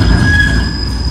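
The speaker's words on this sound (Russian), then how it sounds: "Трамвайчик поехал." A tram pulls away along a Moscow street at Chistye Prudy, its steady rumble close and loud, with thin metallic wheel squeals ringing high above the rolling noise throughout.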